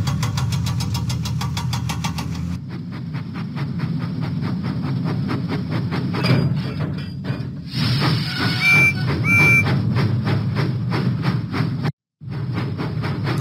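Steam tank engine Percy chuffing out of the docks in a Thomas and Friends lift-and-load video game, a steady loud rhythmic puffing and engine rumble with a couple of brief whistle-like tones and a short cut near the end.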